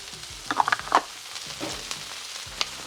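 Bacon and sausage fry on a Blackstone griddle with a soft, steady sizzle, broken by a few sharp crackles and light scraping taps, close by and without talk.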